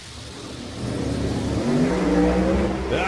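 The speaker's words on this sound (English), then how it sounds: "Shaking the tires hard." Pro Modified drag race car accelerating hard down the strip at around 200 mph, its engine roar building and rising in pitch over a few seconds, loud and close.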